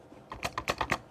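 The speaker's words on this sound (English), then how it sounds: "my keyboard is very loud because I'm typing actually really right next to it" Loud computer keyboard typing right beside the recorder, a quick burst of several sharp key clacks in uneven rhythm, close and prominent with no talking.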